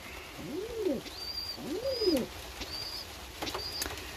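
A pet pigeon coos twice through cage bars in a loft, soft rising-and-falling calls up close, with a few thin higher chirps and faint background noise between them.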